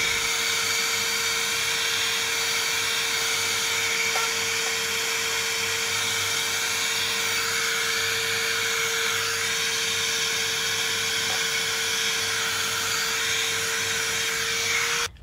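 A heat gun blasts hot air to shrink heat shrink tubing over a freshly soldered wire while fuses are added to a factory fuse box. It gives a loud, steady, continuous whine and airy hiss close up, running throughout with no talk.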